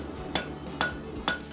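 Bladesmith's hammer striking metal at a forge in Coeur d'Alene, three evenly spaced ringing clinks, moderately loud with a bright metallic tone over a low background hum, no voices.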